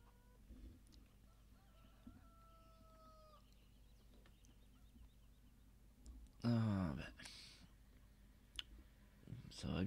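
Farm hens clucking in a quiet farmyard, a few soft scattered clucks and calls at a distance, with a brief loud burst of noise midway and faint low background hum.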